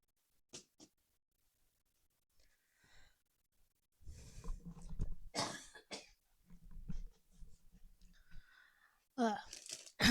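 A person coughs in several short, harsh bursts close to the microphone, with throat clearing and breaths in between and quiet gaps.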